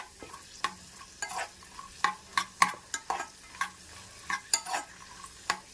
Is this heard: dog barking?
no